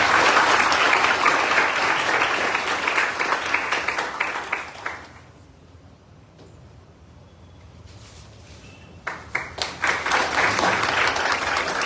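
Audience applause welcoming a guest at a UPSC civil services exam guidance lecture: loud, dense clapping from a full hall that thins to a quiet lull midway, then rises again in sharp bursts near the end.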